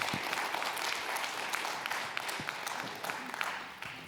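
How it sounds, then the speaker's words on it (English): Sustained applause from a conference crowd, a steady dense wash of clapping that stays loud and then eases slightly at the end. "Round of applause for our advocates."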